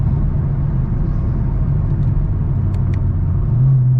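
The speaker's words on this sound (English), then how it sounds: "So yeah, so I'll do another pull for y'all to show y'all exactly." A Chevrolet Camaro SS with an automatic eight-speed gearbox rumbles steadily from inside the cabin, a low, continuous engine drone with no talk.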